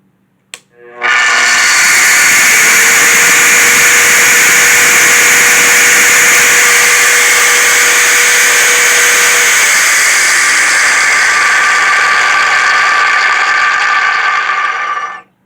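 A Vevor 14-inch electric concrete saw with a diamond blade starts with a click and spins up into a loud, steady, high-pitched motor whine, holding constant for over ten seconds before cutting off abruptly.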